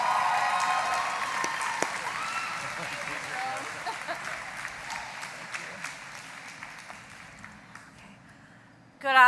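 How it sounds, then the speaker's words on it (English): A high school graduation audience applauds their principal, Melissa Hunter, with a sustained, fairly even round of clapping from a large crowd that thins gradually, ending with a brief loud burst at the close. "Let's give a big round of applause."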